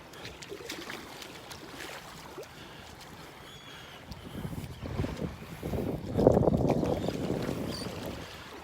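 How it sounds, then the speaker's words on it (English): Wind blows across a beach in North Naples, Florida, buffeting the microphone in rumbling gusts that grow stronger and louder partway through. "I don't know when the wind's gonna die down."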